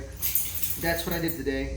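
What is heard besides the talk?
dogs in the background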